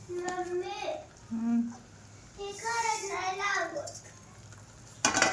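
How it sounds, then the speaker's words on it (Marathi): Vermicelli being stirred into boiling milk in a kadhai, a soft scraping swirl with intermittent stirring under a voice speaking nearby, ending in a brief louder clatter. "आता शेवाळ्या इथं टाकून घ्यायच्या तर चांगलं मिक्स करून घ्यायचं"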